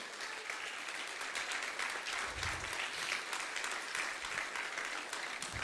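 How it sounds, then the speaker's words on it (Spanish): A church congregation applauds together in a steady, dense burst of clapping that fills the space evenly from start to finish. "Denle un fuerte aplauso al Señor."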